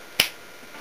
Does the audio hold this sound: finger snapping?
yes